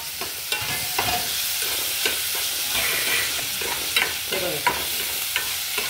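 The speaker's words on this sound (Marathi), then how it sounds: "टमाटा सॉफ्ट आणि कांदा ब्राऊन होईपर्यंत आपण शिजवून घेणार आहोत।" Chopped onion and tomato sizzle softly in a pan while a spoon stirs and scrapes through them, giving repeated light clinks over a steady low frying hiss.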